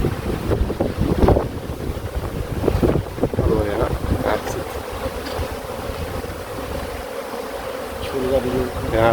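A big drone bee buzzes steadily close by during removal of a beehive from a drain outdoors, a continuous droning hum with wind noise over the microphone throughout.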